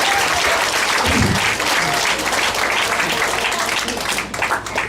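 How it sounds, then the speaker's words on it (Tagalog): Loud, dense applause from a large seated audience at a talk fills the whole stretch, sustained and steady before thinning slightly at the end. "Sobrang lakas sa palakpak."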